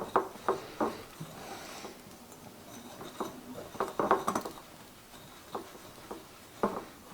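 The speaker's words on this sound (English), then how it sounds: "And we'll start to mix." Beer batter for onion fritters gets stirred in a bowl, a utensil clinking and tapping against the sides in irregular clusters, close and fairly quiet with no talking.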